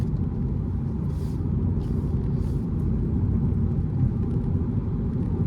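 Steady low road rumble inside a 2025 Honda Civic e:HEV hybrid creeping through stop-and-go traffic, with a constant drone and a few faint hisses from nearby vehicles.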